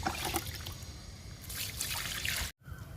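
Liquid fertilizer poured onto a potted plant, a continuous close trickle and splash that stops abruptly near the end, with no talking.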